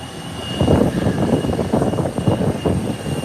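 An Airbus A321neo airliner touches down at Howard Hamilton International Airport, a steady, fairly loud broadband roar of engines and rolling rumble that holds throughout without any voices.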